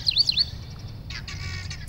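Several bright bird chirps ring out at the start over a low steady hum at Lake Chivero, a Zimbabwe wetland, followed by softer, more diffuse twittering calls later on.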